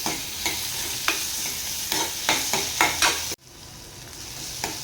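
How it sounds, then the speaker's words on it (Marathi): Tomatoes and onion sauté in a pan with a constant close sizzle, punctuated by regular spatula scrapes and stirs, then a quieter sizzle after a short pause. "टोमॅटो पण छान परतून घ्यायचा आहे।"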